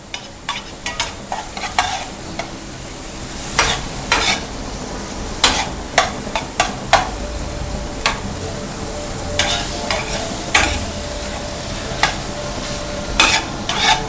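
Tomato chutney stirred and frying in hot mustard oil: a steady sizzle runs throughout, with repeated scraping strokes of the spoon against the pan, loud and close.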